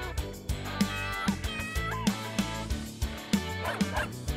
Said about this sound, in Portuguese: O cachorro late